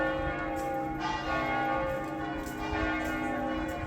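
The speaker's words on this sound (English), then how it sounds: "Church bells going off." Church bells ringing continuously in Venice, Italy, a dense, layered peal of overlapping tolls at steady volume, slightly distant, with no one speaking.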